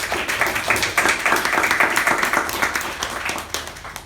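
A small meeting audience claps for a Toastmaster, a close, brisk patter of individual hand claps, loud and uneven, carrying on for about four seconds before tapering off.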